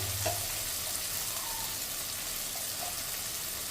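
Spices with ginger paste and turmeric powder fry in a pan with a soft, steady sizzle, fairly faint and close, with a brief stir at the start.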